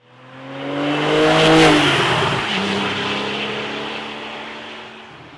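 A 2015 Porsche 911 Carrera GTS manual (991.1) with its naturally aspirated engine drives past, rising to a loud close roar and then fading steadily away.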